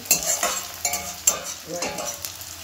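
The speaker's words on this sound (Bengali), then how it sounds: "পেঁয়াজটা ভাজা হয়ে গেছে" Frying onions stirred in a wok, with rhythmic scraping strokes of a spatula over a continuous close sizzle and occasional light metal clinks.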